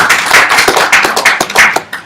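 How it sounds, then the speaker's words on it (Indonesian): Audience clapping at a Bali provincial sports organization work meeting, a dense, loud patter of many hands that stays steady for about two seconds with no voices over it. "Tepuk tangan dong."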